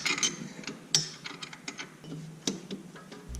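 Hand tools clicking and ratcheting while the supercharger pulley on a Weiand/B&M 144 blower fitted to a small-block Chevy in a Jaguar XJS is swapped, with scattered close metallic ticks, clanks and a few sharper knocks.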